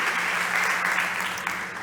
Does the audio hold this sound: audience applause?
yes